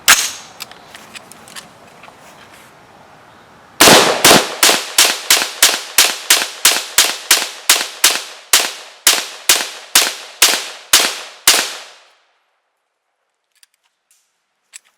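Roughly twenty rapid, evenly spaced rifle shots from an AR-15 firing Herter's steel case ammunition, loud and close, following quieter handling clicks and ending in silence with a couple of faint clicks.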